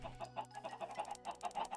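Chickens in Minecraft cluck in quick repeated bursts, a busy rhythmic string of short calls close by, with no talking.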